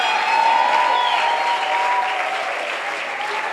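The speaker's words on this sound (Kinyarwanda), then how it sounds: "Amashyi menshi ku Mwami Yesu Kristo" A church congregation claps loudly and steadily together at a prophetic worship service, a dense close wave of applause that eases off slightly toward the end, with voices calling out beneath it.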